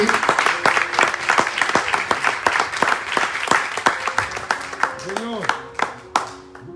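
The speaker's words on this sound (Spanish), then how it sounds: "Quiero que le des un aplauso al Señor si es así" A church congregation applauds for the Lord: dense, sustained clapping with sharp individual claps throughout, joined by voices and a brief sung or drawn-out vocal tone near the end.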